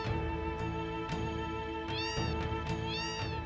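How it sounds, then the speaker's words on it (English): Cats meow several times in a Final Fantasy VII game scene set in Wutai, short mewing calls over continuous background game music. "you walk into them, and that's what makes them meow"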